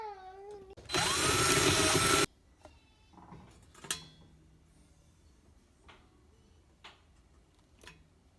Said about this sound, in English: I'm gonna use this biggest drill I have, 3/8, to drill